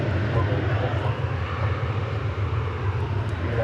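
An American Airlines Airbus A321 at DFW Airport gives a steady, broad jet engine roar, moderately loud and unbroken throughout.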